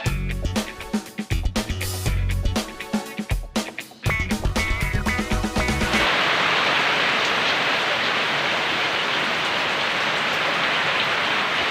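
Rain falling on an island, a steady dense hiss that fills the second half evenly after a stretch of loud music, with no voices.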